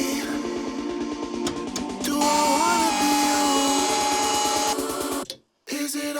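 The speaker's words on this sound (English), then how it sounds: "I'm using a seam splitter, which is a body panel tool used to separate panels from each other." A seam splitter works loose the welded rear body panels of a Mitsubishi Evolution 8, giving a loud, steady, close mechanical whine and grind that cuts off abruptly near the end.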